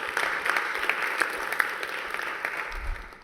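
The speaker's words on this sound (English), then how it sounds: "Big round of applause also for Davor." An audience claps steadily, a dense patter of many hands that fades out toward the end.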